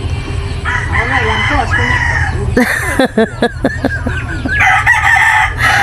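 A rooster crows nearby, a loud drawn-out call followed by choppy clucking and a second crow rising at the end.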